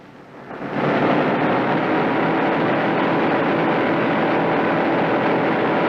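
Piston engines of a Boeing B-17 Flying Fortress swell up to a heavy, steady roar within the first second and then hold a loud, unbroken drone.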